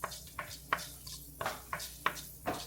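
Fenugreek seeds stirred in a hot pan for Kottayam-style fish curry, giving a series of scraping stir strokes about every third of a second over a soft sizzle, close and moderately quiet, with no voices.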